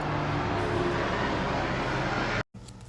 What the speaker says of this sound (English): I don't know if you heard that jet overhead